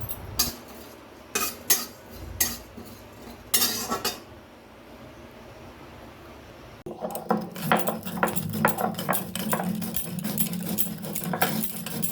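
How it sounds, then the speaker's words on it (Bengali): Panch phoron spices stirred and fried in a hot wok for a Bengali shukto, heard as a few sharp metallic utensil clinks followed by a steady close sizzle with rapid scraping and stirring taps. "এবার পাঁচফোড়নটাকে আমি নেড়ে চেড়ে ভাজতে থাকবো।"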